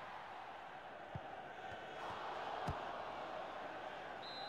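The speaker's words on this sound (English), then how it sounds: "Listen to this crowd." Distant stadium crowd roars in a steady, muffled wash in the PS2 football video game FIFA Football 2005, swelling slightly midway, with a few dull thumps and a faint voice beneath.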